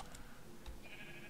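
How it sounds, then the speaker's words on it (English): A sheep bleats in Minecraft, one short, faint bleat heard alone over a quiet background. "This is the sheep that thinks he's a mountain goat."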